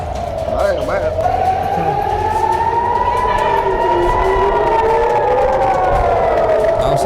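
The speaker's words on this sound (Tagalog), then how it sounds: "Hezbollah attack caused sirens to blare in Nahariya, neighboring towns" Air raid sirens wail across Nahariya and neighboring towns in northern Israel during a Hezbollah attack, several rising and falling tones overlapping continuously, loud and sustained for the whole stretch.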